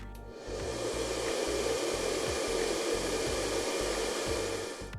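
A hair dryer runs on power carried through a transformer-boosted transmission line demo, giving a steady close whooshing roar with a rhythmic low pulsing hum underneath, starting up and tailing off at the ends.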